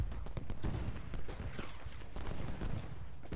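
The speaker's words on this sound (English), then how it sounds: "now you're shooting a couple shots" Musket volleys crackle in Ultimate General Gettysburg, a dense, continuous fusillade of overlapping distant shots with no clear rhythm, the muffled pops blending into a rolling battle din at low level.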